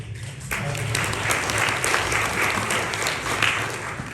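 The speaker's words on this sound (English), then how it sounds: "You may want to take that applause back when I get done." A panel audience at the Vatican breaks into applause for a retired Monsignor, a dense, sustained roll of many hands clapping that starts abruptly and holds steady for several seconds.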